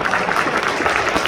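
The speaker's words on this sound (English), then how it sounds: "Stand up and clap for yourselves" Office staff applauding together after a call to stand and clap for themselves, a dense, steady patter of many hands close by with no break across the short stretch.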